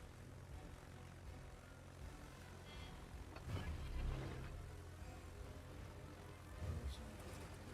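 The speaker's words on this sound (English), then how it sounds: "Enemy planes." Enemy aircraft engines in the naval combat game World of Warships: a steady propeller drone hums throughout, swelling as planes pass close around the middle and again near the end.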